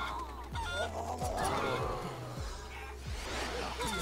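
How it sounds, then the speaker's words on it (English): Luchador chicken in the Guacamelee video game giving honking, goose-like clucks, several squawks over a steady game music bed, loud and close. "Luchador Chicken is adorable."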